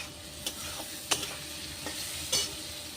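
Spices for a rui fish curry sizzle steadily in a pan, broken by a few sharp scraping strokes of a spoon stirring through the masala, close and with no voices.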